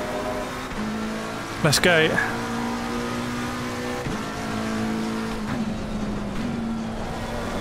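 BMW M4 race car engine in Assetto Corsa Competizione, a steady droning note holding under speech, with a brief shifting squeal and a couple of gear changes along the way.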